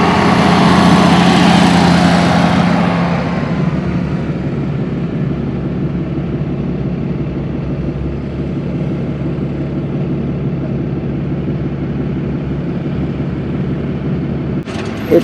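A tractor drives over the top of a muddy levee to knock it down: a steady, loud engine drone with low rumble that holds throughout, slightly louder at the start, with no talk over it.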